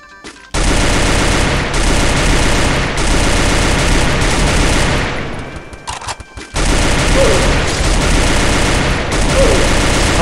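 Sustained loud automatic gunfire in a shooter video game rattles in long continuous bursts, breaking off briefly in the middle before the shooting resumes at full intensity.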